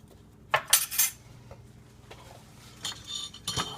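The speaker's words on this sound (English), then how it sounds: "Whisk it together" A metal whisk stirring dry ingredients with salt and cornstarch in a bowl for a s'mores pie, a few quick clinking taps and scrapes against the bowl in short bursts, close and quiet between strokes.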